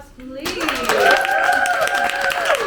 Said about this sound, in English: let's get this started with another warm applause